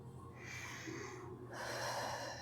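Deep, forceful breaths during a rocker-style workout, a sharp nasal intake followed by a long rushing exhale, close and breathy, with no speech.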